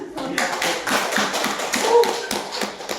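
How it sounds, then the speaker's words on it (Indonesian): Students applaud in a chemistry classroom after a lesson on ionic and covalent bonds, a dense run of overlapping claps with sharper taps standing out, moderately loud and close, with faint voices mixed in. "berikan tepuk tangan"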